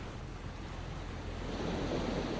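Ocean waves wash in at Hegar Beach as a broad, steady rushing surf with a low rumble, swelling slightly toward the end, mixed with some wind and no voices.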